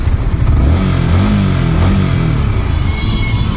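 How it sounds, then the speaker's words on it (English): A Yamaha R15M motorcycle engine running at a steady idle, a loud, close, continuous low rumble with a slight rise in pitch partway through, no talk. "Now the bike is started."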